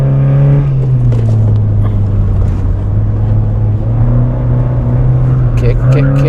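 A Honda Fit GD3 drives slowly on a road, its engine holding a steady low drone with a slight dip and rise in pitch, heard from inside the cabin.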